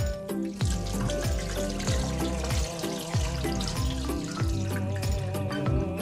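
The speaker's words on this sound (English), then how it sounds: "So, hugasan natin yung rice." Sushi rice gets washed by hand in water, with close, continuous sloshing and pouring splashes in a loose repeating rhythm and no voices.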